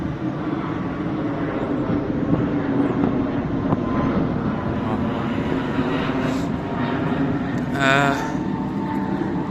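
Airplanes taking off overhead, a continuous loud engine roar and rumble with wind buffeting the microphone, no one speaking.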